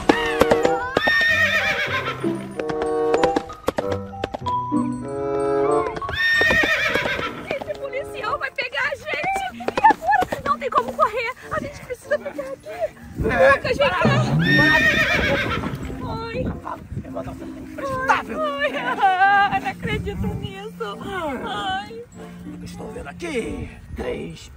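A horse in a game neighs and whinnies several times, some calls loud and drawn out. Hooves clip-clop and a voice talks between the calls, with steady background noise underneath.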